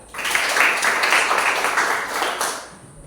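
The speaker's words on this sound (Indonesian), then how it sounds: "Tepuk tangan untuk Julia." A classroom of students breaks into a short burst of clapping during a mathematics lesson. It swells quickly, holds for about two seconds, then fades away.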